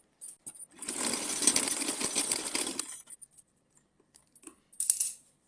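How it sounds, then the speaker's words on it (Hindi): A sewing machine makes one close burst of stitching, about two seconds long, through folded fabric for a small Laddu Gopal summer dress. Quiet clicks and handling noises follow, then a short final buzz. "फोल्ड करने के बाद में इस पर हम सिलाई लगाएंगे। इसको दो तरफ से हम सिल देंगे।"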